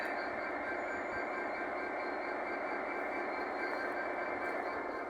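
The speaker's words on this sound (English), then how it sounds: "just see if I can make out what type of train that one is. Well, it's an electric." An electric train passes in the distance on a foggy day, a faint, steady broadband rumble and hiss that holds evenly throughout without clear peaks.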